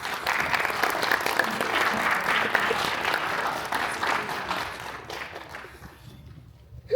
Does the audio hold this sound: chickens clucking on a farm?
no